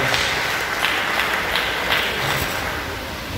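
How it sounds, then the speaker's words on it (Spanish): A church congregation at a youth revival service applauds, a dense sustained wash of clapping heard at close range throughout without speech. "Dale un aplauso a Cristo que le permite"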